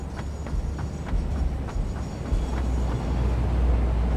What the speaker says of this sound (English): You can see all the refineries and the pipes running above, and trains going on this level.